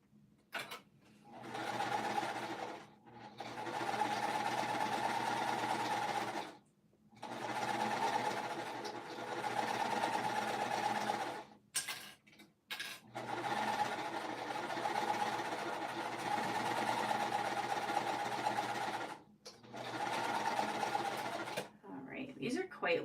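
A serger sewing machine runs in several long bursts of steady, buzzing stitching while finishing blanket edges, with brief pauses between runs and no talking over it.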